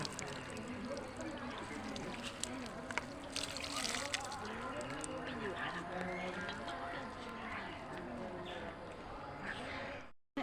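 Liquid trickles and splashes as it is poured over plants, a steady, fairly faint running pour that ends abruptly, with a person talking over it throughout.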